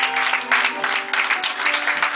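A church congregation applauds steadily and loudly, with a dense, sustained clapping that fills the space during a joyful birthday service.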